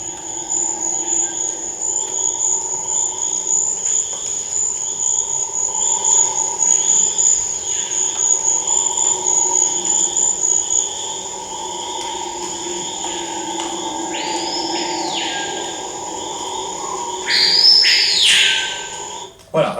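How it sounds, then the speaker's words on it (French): Amazon rainforest soundscape at the Nouragues biological station in French Guiana: a dense, continuous wash of insect and cricket buzzing and trilling, with scattered bird calls and a louder whistled call near the end. "un tout petit extrait d'un paysage sonore qu'on a enregistré en Guyane française, à la station biologique des Nouragues du CNRS"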